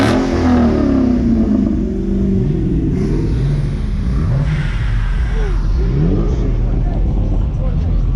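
A car engine close by revs hard several times, each rev a loud rising and falling roar over a constant rumble, with people talking and reacting over the noise.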